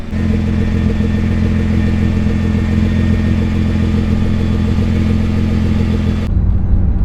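Nissan GT-R engine idling steadily as it warms up, a loud, close, continuous low rumble that holds even for about six seconds before dropping to a quieter idle.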